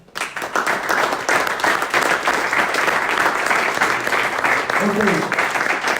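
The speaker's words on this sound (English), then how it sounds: "Big applause to him." Audience applause for a speaker at a tech retreat, steady dense clapping from a crowd filling the room after a quiet start, with a brief spoken word over it.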